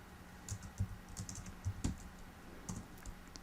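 Keys clack on a computer keyboard in short, irregular taps, about a dozen quick strokes with small clusters, close and moderately soft, with no voices.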